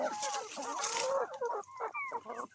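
Backyard chickens being fed cluck and squawk close by in a short, busy flurry of overlapping calls, fairly faint overall.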